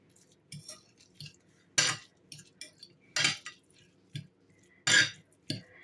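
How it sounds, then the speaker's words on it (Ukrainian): A spoon stirs a beetroot salad with garlic and pepper in a bowl, giving sharp clinks against the bowl, spaced irregularly, with soft wet squishing between them, close and fairly quiet. "Перемішуємо гарно, щоб часничок гарно розімнявся, розподілився"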